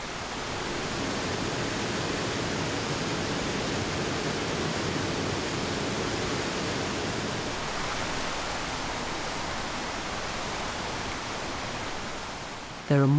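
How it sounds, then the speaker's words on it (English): Rushing waterfalls fed by small brooks in the Andes' Valdivian rainforest give a steady, even broadband roar of falling water, with a voice briefly starting at the very end. "little brooks swell into rushing waterfalls"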